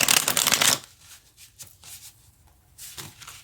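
A deck of tarot cards is riffled in a quick, close burst of crisp shuffling, followed by softer scattered card handling and light taps in a quiet room.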